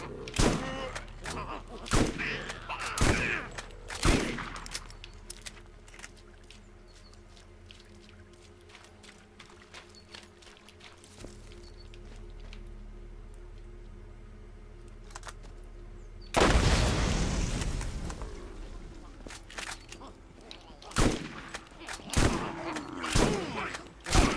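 Shotgun blasts in the video game Borderlands, several sharp loud shots scattered across the clip amid game ambience, with a long roaring noise burst midway and a quieter lull between.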